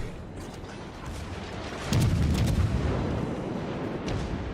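Naval guns fire a salvo in the World of Warships game: a heavy boom lands about two seconds in and rolls into a long rumble over steady ambient noise, with no talking.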